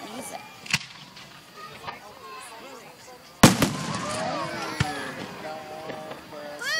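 Fireworks at the Quail Springs display: a few sharp bangs and crackling bursts, one louder boom midway, heard at moderate distance while people chatter and sing nearby.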